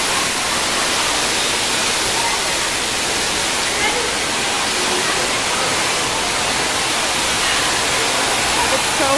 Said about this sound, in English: So I'm gonna show you guys the water park.